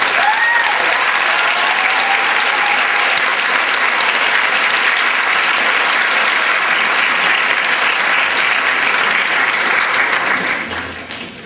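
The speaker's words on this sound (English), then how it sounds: "Give them a round of applause." Sustained applause from an audience at a sports awards ceremony honoring a 2008 New York State Class C semifinalist team, loud and steady throughout before tapering off at the end.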